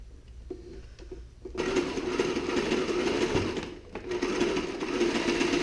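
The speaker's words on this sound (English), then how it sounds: "I'm just going to sew everything together now." Sail patches for a sailing vessel are sewn together on a sewing machine, with soft handling clicks giving way to a loud, steady close motor drone that pauses briefly near the end before resuming.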